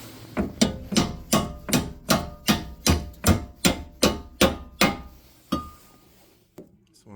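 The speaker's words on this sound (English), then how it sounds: "you might want to hit it with like a hammer or something." About a dozen sharp, evenly spaced hammer strikes ring out in a steady rhythm, close by, on a Lexus GS suspension part, then stop with a couple of lighter knocks.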